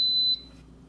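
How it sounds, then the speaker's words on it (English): A rice cooker beeps after its start button is pressed, giving a short, clear electronic tone with a second faint blip that fades quickly into quiet room noise. "It gives 3 beeps."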